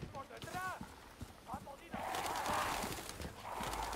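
Horse hooves clop in quick bursts in Resident Evil 4 Remake, with someone talking over them before a steady rushing noise takes over.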